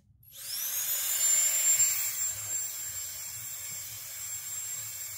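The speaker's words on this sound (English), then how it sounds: "I'll show how this device works now. To turn this on, we have to double press the power button." A Ulanzi electric wireless air dust blower spins up from silence to a loud, high-pitched whine, with a rushing airflow hiss, then holds steady close by without talking.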